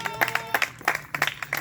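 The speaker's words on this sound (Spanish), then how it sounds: "denle un aplauso al Señor" A church congregation claps in quick, uneven bursts, with sustained musical or vocal tones underneath.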